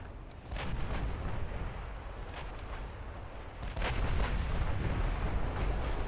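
Naval gunfire in the warship game Ultimate Admiral Dreadnoughts, a battleship's heavy rounds thudding and rumbling in a continuous low, dense roar with scattered sharper shot reports, no voices.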